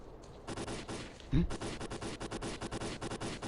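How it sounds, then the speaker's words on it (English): Bursts of gunfire from the game Stalker: Call of Pripyat crackle in rapid volleys, with one sharper, heavier shot standing out amid a steady rattle of distant-sounding firing. "Gunfire."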